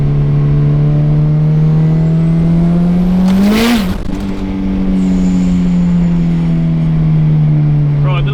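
A Honda Civic engine holds a steady high idle of about 1,500 to 2,000 rpm at cold start with a loud droning hum, briefly swelling and falling back around the middle, heard up close.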